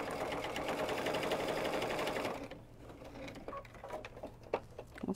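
A sewing machine runs a hem across the bottom of a fabric mastectomy heart pillow. The rapid, steady stitching whir lasts about two seconds, then gives way to quiet clicks and fabric handling.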